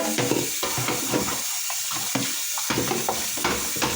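Water runs steadily from a kitchen tap as something is rinsed out, a close, continuous splashing rush with brief uneven dips in the flow.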